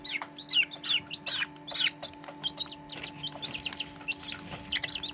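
Home-hatched Serama and pheasant-chicken chicks clucking and peeping close by, a lively run of short repeated chirps and clucks in irregular bursts over a steady background hum.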